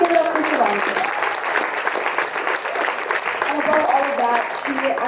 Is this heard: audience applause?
yes